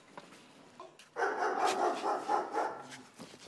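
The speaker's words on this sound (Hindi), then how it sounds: "ये कुत्ते रूटीन में इतना भौंकते हैं कि आपको देख के ज्यादा ही भौंक रहे हैं।" Several dogs barking together in a burst, fairly close and loud, with a quieter bark or two before the main outburst and no talk over it.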